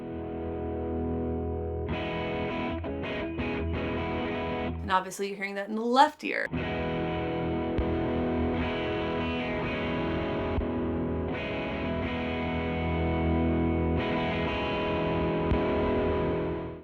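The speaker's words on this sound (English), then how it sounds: "quickly listen to the blue, which has a toggle that will give you more distortion." A heavily distorted electric guitar, played through an OBNE Beam Splitter pedal's distortion channel, holds thick, buzzing sustained chords, briefly interrupted by someone talking before the distorted tone returns and rings on.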